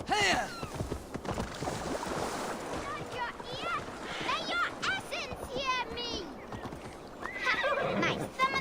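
A horse neighs and whinnies repeatedly in Assassin's Creed Valhalla, its cries rising and falling over busy game ambience with hoofbeats, water and a voice talking underneath.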